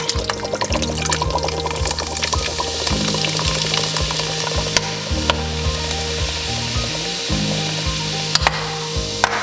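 Beef pot roast fries in a pot, with a dense, continuous sizzle heard up close over a steady low hum, broken by occasional sharp clicks of a utensil.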